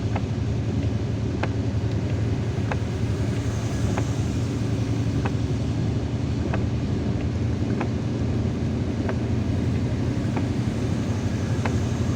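Steady road and engine rumble from a car driving through city traffic in Algiers on a wet day, heard from inside, with a soft regular tick recurring about every second or so.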